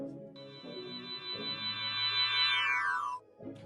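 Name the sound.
reversed piano riser without effects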